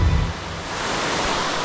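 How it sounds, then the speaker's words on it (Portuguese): Steady roar of the Cachoeira dos Veados waterfall on a Brazilian trail, a dense continuous rush of falling water, close and fairly loud, with wind buffeting the microphone at the start. "a Cachoeira dos Veados, a verdadeira!"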